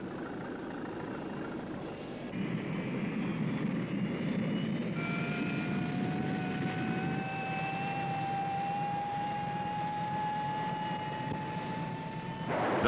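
Grumman F-14 Tomcat fighter jet engines run as a steady, loud roar with a rising whine layered on top, building in intensity over several seconds without any talk.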